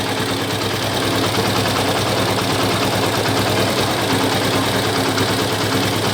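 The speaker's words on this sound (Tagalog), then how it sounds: "Naging smooth na po yung takbo ng engine ko." A car engine idles steadily and evenly after a rattle fix, with a constant close hum and no knocking or speech.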